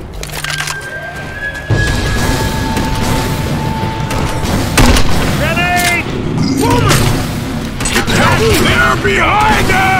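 A grenade blast in a Roblox game modelled on Left 4 Dead 2, a loud boom amid mechanical clatter and game effects, with voices calling out over the action.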